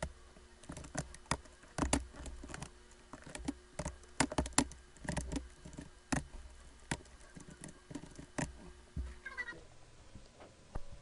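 Rapid typing on a computer keyboard, with dense irregular bursts of clicky keystrokes close up, continuing steadily with brief pauses and no voices.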